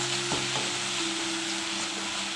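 A chicken marinade mixed with a teaspoon of lemon juice is stirred in a bowl, giving soft wet scraping strokes over a steady hiss and low hum, close and fairly quiet.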